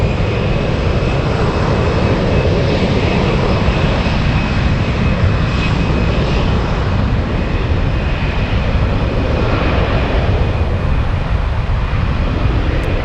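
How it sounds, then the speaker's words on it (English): A four-engine airliner taxis toward runway 18 at Frankfurt airport, a loud, steady engine roar and whine filling the whole stretch without letup, no voices over it. "A surprise with 4 engines taxiing right now to runway 18."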